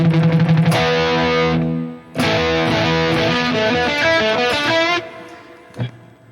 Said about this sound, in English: always these crunch tones, light crunch tones, which have lots of dynamics